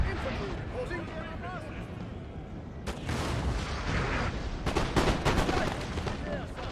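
Cannon artillery fire in the Napoleonic battle game Napoleon: Total War, a string of sharp booms and crackling volleys that grows denser and louder partway through over constant battle noise, with someone talking underneath.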